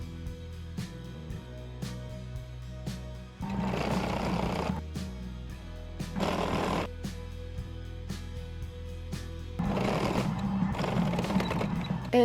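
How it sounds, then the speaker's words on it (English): A sewing machine topstitches the top edge of a pocket on a yellow quilted jacket, running in three short bursts over steady background music. "And then I'm just gonna top stitch the top edge of the pocket."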